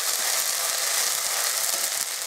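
Dried chillies dropped into hot oil with fried ginger paste, giving a steady, bright, hissing sizzle that holds evenly throughout, close up and without talk.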